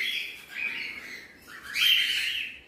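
Cockatiel nest with six chicks about 25 days old and two adult breeding birds, giving repeated harsh, raspy squawks and calls in close bursts, the loudest near the end, with no talking.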